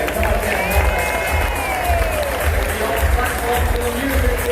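Audience on a showboat applauding and cheering, a steady dense wash of clapping and crowd noise with scattered whoops lasting throughout, fairly loud and close.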